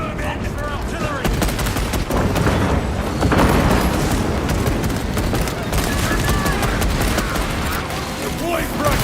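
Relentless gunfire and artillery blasts in the Warhammer 40k Space Marine 2 video game, dense bursts and booms layered with mechanical clatter and shouted voices throughout.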